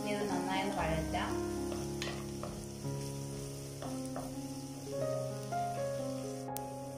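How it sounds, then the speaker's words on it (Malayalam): Chopped green chilies and garlic sauté in a pan with a soft, steady sizzle and light stirring, while a voice talks over the cooking. "ഇത് നന്നായി ഒന്ന് വഴറ്റാം"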